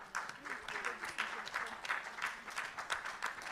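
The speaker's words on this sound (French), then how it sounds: "Acclame fortement pour le Seigneur." A church congregation claps and applauds loudly in a steady, continuous burst of hand claps that fills the room, with a few voices mixed in.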